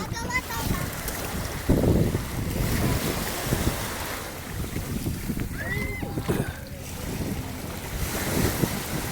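Waves rolling onto a shore with steady wind noise buffeting the microphone, and a voice talking faintly in the background.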